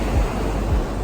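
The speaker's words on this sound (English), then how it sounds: "I see the beautiful waves that are huge and powerful and yet so inviting." Large, powerful ocean waves roll in at Playa La Bocana in Huatulco, Oaxaca, Mexico: a loud, continuous surf roar with two deep surges, and wind buffeting the microphone.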